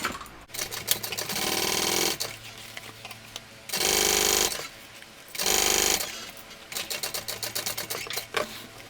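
A sewing machine bastes a zipper onto a vinyl tote bag, stitching in several rapid, loud bursts separated by short pauses.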